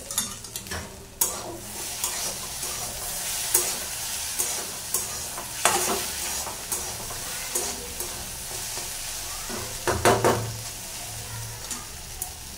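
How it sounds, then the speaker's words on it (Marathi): Okra (bhindi) frying in a pan is stirred with a utensil, giving a soft sizzle broken by repeated scraping and clinking strokes at irregular intervals, close by and fairly quiet. "आपण हिला परतवून घेऊयात."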